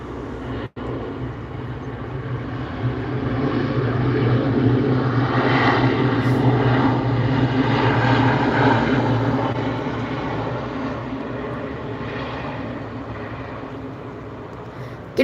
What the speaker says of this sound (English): Getting on the runway behind the Alaska 737-800, we have the Dassault Falcon 2000